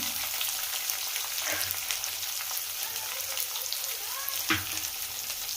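Green chillies and onion fry in a pan with an even, close sizzle and a few stirring scrapes and clinks.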